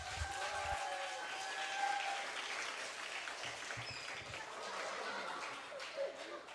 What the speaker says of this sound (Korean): 우리 귀한 목사님 나오실 때 큰 박수로 맞이해 주시겠습니다